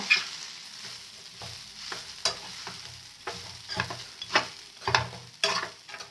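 Beaten rice (poha) gets stirred in a hot pan for poha pulihora, soft frying underneath as a spoon scrapes and tosses in distinct, irregular strokes close by, with no talking.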